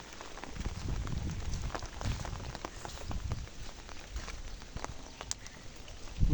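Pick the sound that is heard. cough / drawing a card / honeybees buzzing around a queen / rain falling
rain falling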